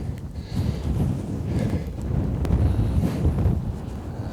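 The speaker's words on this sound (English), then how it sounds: "Wow, it's cold and blowy." Cold wind gusts on the Dartmoor hilltop at Haytor, rumbling and buffeting against the microphone, loud and steady throughout with no voices.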